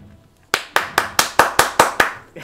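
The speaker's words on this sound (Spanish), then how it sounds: "Te aplaudo." Eight crisp hand claps in an even, fairly quick rhythm, close and loud against a quiet background.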